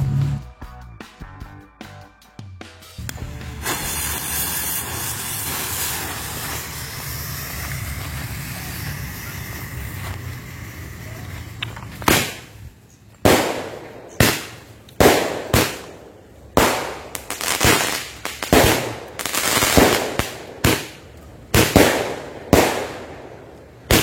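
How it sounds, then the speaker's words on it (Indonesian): Two Roman Candle fireworks are lit outdoors: a long hissing fizz with wind noise, then a rapid series of sharp popping bursts fired one after another, loud and close. "yang pertama kita nyalakan 2 buah langsung mercon Roman Candle"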